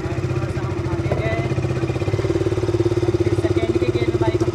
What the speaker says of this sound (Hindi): बाइक स्टार्ट कर दिया एंड फर्स्ट के गियर मैंने बाइक लगा दिया है एंड थोड़ा सा हम आगे गए